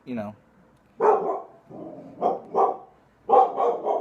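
A dog barks in a series of loud, close bursts in a home, several separate barks spaced unevenly across a few seconds with no talking.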